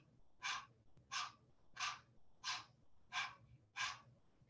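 Six sharp open-mouth panting breaths come in an even rhythm during breath of fire yoga breathing, each a breathy burst with short quiet gaps between, close and fairly soft.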